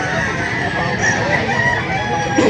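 A rooster crows loudly and close at a chicken auction market in Lipa City, one sustained crow filling the moment with busy crowd murmur behind.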